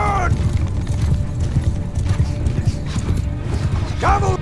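Cavalry horses moving in the battle game Bannerlord, a steady clatter of hooves and gear with occasional whinnies, close and loud, with a voice shouting commands briefly.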